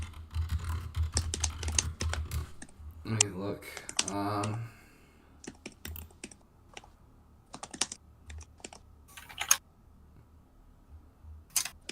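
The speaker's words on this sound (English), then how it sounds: "I'm typing it in the chat" Bursts of typing on a computer keyboard in a room during a live stream, with brief speech mixed in and scattered key clicks continuing between pauses.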